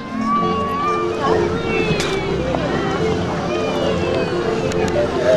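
Steady engine rumble and water noise from a boat ride at a theme park, with wind buffeting and voices talking faintly in the background throughout.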